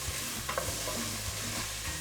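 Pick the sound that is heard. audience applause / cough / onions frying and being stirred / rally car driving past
onions frying and being stirred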